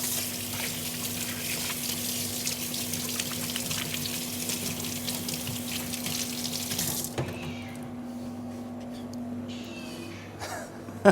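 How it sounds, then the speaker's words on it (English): Tap water runs steadily into a kitchen sink as hands are washed after handling raw chicken, a broad close splash lasting about seven seconds before the flow cuts off, leaving quiet room sound and a faint clink. "Wash your hands."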